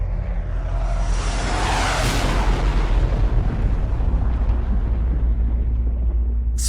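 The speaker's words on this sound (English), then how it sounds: "Then there was the sonic boom to end all sonic booms." A huge sonic boom from a craft in an audio horror story opens with a sharp, loud burst and rolls into a long, roaring rumble that fills the space before thinning toward the end.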